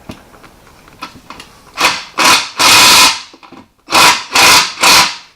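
A power drill with a 5/8 socket loosens bolts on a Reaper OffRoad rear bumper, firing off close, loud whirring bursts of about a second each, separated by short pauses and small clinks.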